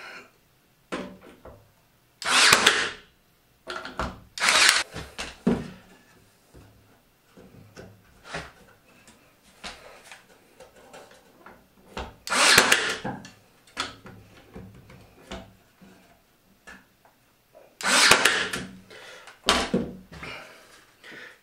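A brad nailer fires several sharp, close shots into wood while a clamp rack for F-style and quick-grip clamps is assembled; the shots come in irregular clusters with quieter handling noise between them.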